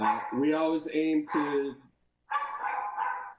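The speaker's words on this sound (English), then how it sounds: "and now that's my dog." A dog barks in a short run of several yaps, close and fairly loud, with someone speaking just afterward at a public meeting in Portland.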